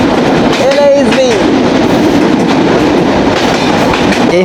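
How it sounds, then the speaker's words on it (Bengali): The red and green Kapotaksha Express stands at a station, a loud continuous rumble of rail noise with rhythmic clatter, a short squealing tone early on and voices mixed in. "দাঁড়িয়ে রয়েছে লাল সবুজের কপোতাক্ষ এক্সপ্রেস ট্রেন"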